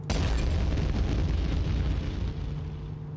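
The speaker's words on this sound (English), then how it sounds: "Figuring out a safe way to detonate these bombs." A bomb detonating in the video game Minit, a single loud boom that hits at once and rolls into a long, slowly fading rumble, heard alone without talk.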